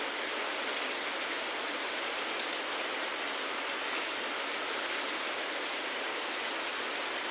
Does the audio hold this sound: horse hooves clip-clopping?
no